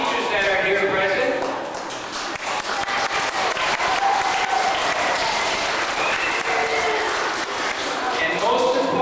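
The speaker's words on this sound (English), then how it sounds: "give yourselves a round of applause" Townspeople and teachers at a community event in Sturgeon Falls, Ontario, applaud in a loud, sustained round of clapping that swells and holds, with voices and speech running beneath it.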